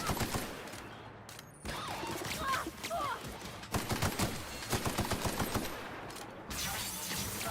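Sharp rapid gunshots from a gun in The Outer Worlds crack in quick bursts over a busy game soundscape, with someone talking between volleys.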